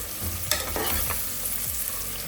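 Onions frying in ghee for ghee rice are stirred in a pan. A spoon scrapes and stirs in a few distinct strokes over a steady, close sizzle, and no one speaks.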